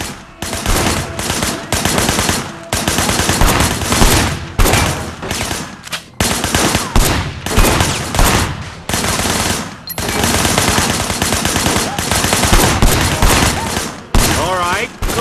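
Dense, sustained automatic gunfire in the game Sleeping Dogs, loud bursts and volleys running almost continuously with brief gaps, with faint game voices mixed underneath.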